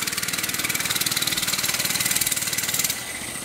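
A kids' mini bike engine idles close by, a loud, steady, rapid putter with a buzzy edge that keeps an even rhythm before easing slightly softer near the end, with no voices.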